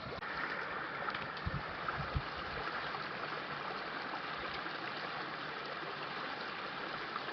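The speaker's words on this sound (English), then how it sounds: "we got a little bit of a creek crossing here, but it looks like we're going to be able to jump rocks to get over" A creek on the Ouachita Trail flows steadily, a constant soft rush and trickle of water over rocks that stays even throughout, fairly quiet and with no voices.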